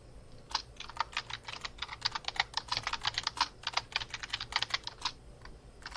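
Rapid typing on a computer keyboard, close and fairly quiet, a dense run of crisp key clicks in uneven bursts with brief pauses, heard alone without speech.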